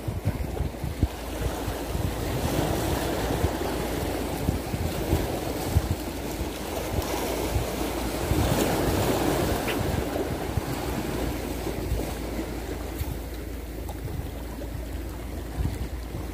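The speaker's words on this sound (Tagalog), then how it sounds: "Kumalma na yung alon, no?" Ocean waves on the shore during shore casting for barracuda, a continuous wash of surf mixed with gusty wind buffeting the microphone, swelling around the middle and settling afterward, with no voices.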